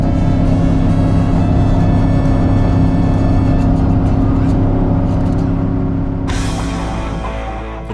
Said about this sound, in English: For the first time, NASA gets to take their trophy truck for a spin.